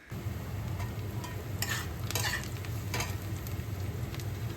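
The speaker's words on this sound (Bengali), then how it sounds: "পেঁয়াজগুলো হালকা ভাজা হয়ে গেছে" Chopped onions fry in a pan for ghugni, giving a steady, close hiss and sizzle with a few brief louder crackles. No one speaks.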